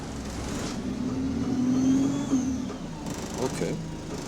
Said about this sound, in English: What's that clocking noise? Oh, it's affected by the engine speed. You hear it get quicker as the engine revs up.